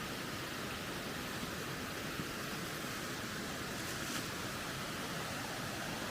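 Nancytown Falls and its boulder-strewn creek in Mount Airy, Georgia, pour in a constant, even roar of rushing water. The broad hiss is heard close up with no voices.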